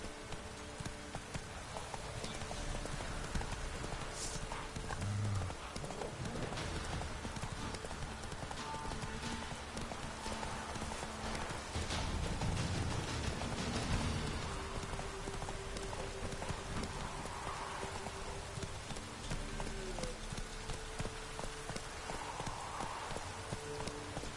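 Roach the horse galloping in The Witcher 3 video game, a steady rhythmic clip-clop of hooves continuing throughout over a soft rain-like background, fairly close, with occasional faint ambient sounds.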